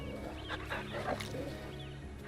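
A dog in the video game Final Fantasy XVI gives a few short barks and growly yelps over a low rumbling game background, moderately loud and close, with no talk over it.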